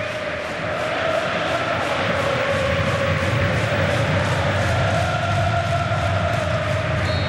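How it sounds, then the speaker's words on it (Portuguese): A large football crowd at São Januário stadium in Rio, during a 2011 Copa do Brasil quarter-final between Vasco and Atlético Paranaense, roars in a steady, dense wash of chanting and whistling that swells and holds throughout. "Torcida se agita aqui em São Januário."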